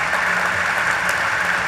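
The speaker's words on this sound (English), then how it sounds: "I think that's worth an applause" An audience at the 2024 SHPE National Meeting breaks into steady applause, a dense, even wash of clapping that holds at a constant level for the whole short stretch, with no voices over it.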